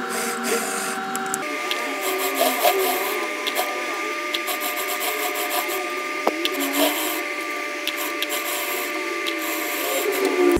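Sewing machine stitching a stretchy jersey hijab for a child, a steady mechanical whir with fast rhythmic needle chatter running through the whole stretch, close and moderately loud, with a brief change in pitch near the start.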